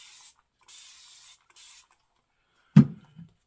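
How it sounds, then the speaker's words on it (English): A handheld spray bottle misting water onto leather-scented shaving soap lather from 345 Soap Company, three short hissing spritzes close by, followed by a soft knock and a faint rustle. "So let me get my trusty spray bottle here."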